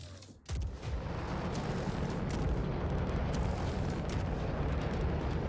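Torpedo launch in the space game Star Citizen: an abrupt start followed by a dense, continuous rumbling roar that holds steady for several seconds, full and moderately loud with no talking.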